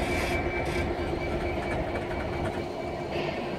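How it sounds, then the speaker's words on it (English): A ballast freight train rumbles steadily past at close range, wheels clattering over the rails in a continuous heavy roar. "Guess it's a ballast train"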